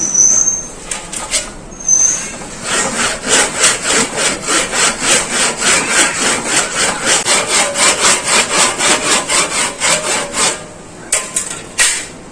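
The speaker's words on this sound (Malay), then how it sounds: "Jadi kita dah menggergaji sekira-kira hampir dapat diameter luas mata tajam ni." A hand saw cuts through wood to fit a handle onto a weeding hoe, giving loud, close, rhythmic back-and-forth rasping strokes, about two dozen in an even run, with a few scattered knocks before and after.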